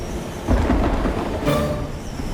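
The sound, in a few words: thunder and rain, cartoon weather change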